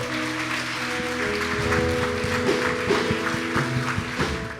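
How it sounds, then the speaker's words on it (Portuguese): Church congregation clapping in praise at a Pentecostal-style worship service, a steady wash of applause over sustained organ or keyboard chords, with a few sharper claps near the end. "Vamos aplaudir o Senhor"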